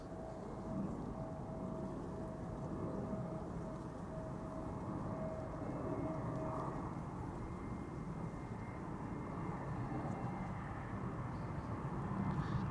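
An EasyJet Airbus A320neo arrives at Amsterdam Schiphol Airport, its engines heard as a steady, distant roar that holds a broad, even rumble throughout without much change.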